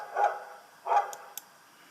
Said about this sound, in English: There, you've got a barking dog.